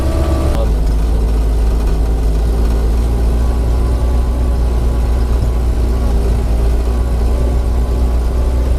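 Moskvich 402, a 1959 car, driving with a steady low engine drone and rumble close by, continuous throughout, a faint voice now and then under it.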